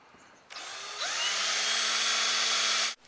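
A power drill bores holes in wall sculpture pieces, starting after a short pause and then running steadily and loudly at high speed for about two seconds before cutting off abruptly.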